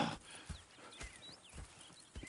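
Horse hooves clip-clop in an uneven walking rhythm in the video game Red Dead Redemption 2, a few distinct thuds close by, with faint chirping calls in the background.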